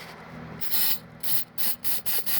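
Short hissing bursts of aerosol lubricant spray onto the seized rear door hinges of a third-generation Mitsubishi Pajero, about six quick close blasts with gaps between them.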